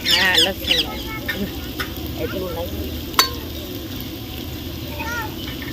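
Crushed garlic-chili paste going into a pan of pigeon pea curry frying at home, with a steady sizzle and stirring clatter, a louder burst at the start and a sharp scrape midway.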